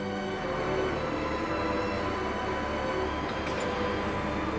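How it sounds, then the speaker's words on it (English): A tractor pulls the heavy hull of a restored 1942 Tiger I tank over laid-out steel tracks in a workshop, a continuous low engine drone with a steady mechanical hum and faint clanks, no voices. "Using a tractor to pull the hull over the laid-out tracks."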